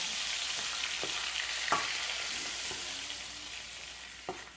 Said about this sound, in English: Onion and garlic should cook properly.